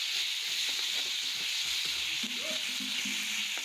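Cardamom, cloves and sugar sizzle in hot oil in a pan, a steady bright hiss with faint stirring scrapes underneath, close and continuous with no talking.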